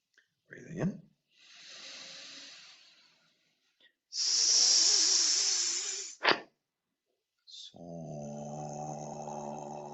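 A person doing a breathing exercise takes several audible breaths, including a long, loud hissing inhale up close, separated by short pauses, with a brief voiced tone at the end.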